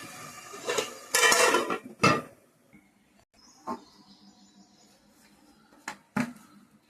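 Metal lid and pot clatter in a home kitchen while beef with gongura leaves cooks: a cluster of loud clanks early on, a sharp clink near the middle, then a few quieter taps and two final clinks, with no talk.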